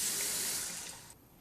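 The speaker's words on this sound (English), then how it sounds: "Add water to the number 4 cup line inside the pot." Water pours steadily into the inner pot of an Aroma rice cooker up to the measuring line, a close hissing stream that tapers off and stops.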